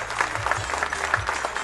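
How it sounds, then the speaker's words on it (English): An audience claps for an honoree at a community tribute event, a brief burst of scattered hand clapping in a room, moderately loud and steady throughout. "Nice round of applause for Wayne Joe, please."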